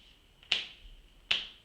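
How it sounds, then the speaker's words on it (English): Two crisp finger snaps made while wearing gloves, spaced under a second apart, close and clear against a near-silent background. "I'm also going to snap my fingers."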